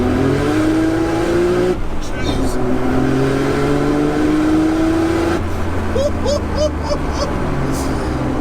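A Nissan 200SX with a swapped 530 bhp Nissan GT-R engine revs up hard, its pitch climbing steadily, drops at a gear change, then climbs again in second gear; a voice exclaims briefly over the roar.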